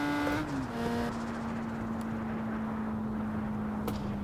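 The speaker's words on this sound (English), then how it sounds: "It is turbocharged, and you can hear the wastegate as well when I lift off." A turbocharged BMW M2 Cup car in the Assetto Corsa Competizione video game, heard from the cockpit at Bathurst: a steady engine drone that drops in pitch early on, with a couple of faint wastegate chirps and clicks.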